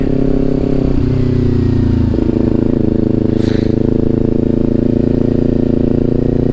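A Kawasaki Ninja 400 motorcycle engine drones steadily and loudly throughout, with a slight shift in pitch partway through as it keeps riding along.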